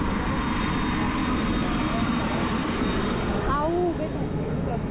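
The engine of an old airplane drones loudly and steadily at close range with a broad, even roar, and a brief voice is faintly heard near the end.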